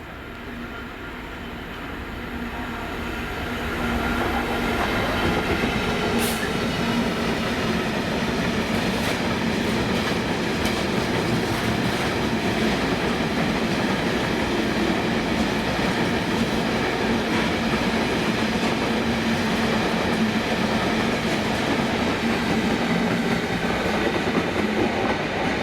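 A ballast train rumbles steadily past Hillington East, hauled by Class 66 diesel locomotives 66109 and 66101, with a loud, continuous drone of engines and rolling wagons that builds over the first few seconds and then holds, with no voices.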